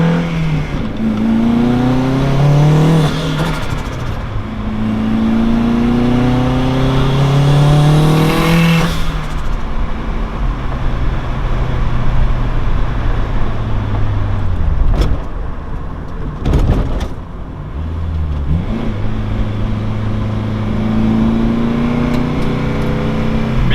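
A turbocharged Honda Civic with a K20 engine pulls hard through several gears, rising revs repeatedly climbing then dropping at each shift, with loud bursts and pops between, recorded from inside.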